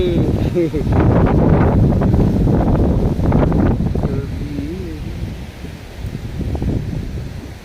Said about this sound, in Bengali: চারিদিকে যেন এক্ষুনি ঝোড়ো হাওয়া বইছে